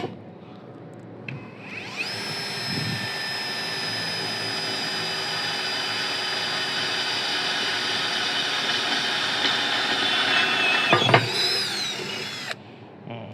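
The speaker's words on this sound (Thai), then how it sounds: "ทดสอบลองเจาะเหล็กดูมั้ง เปิด ปากเป็นโหมดเจาะธรรมดา ลองเจาะดูนะครับ" A Masaru SCDI-105 cordless drill in plain drill mode bores into steel, spinning up to a steady high whine that holds for about ten seconds, wavers briefly, then cuts off.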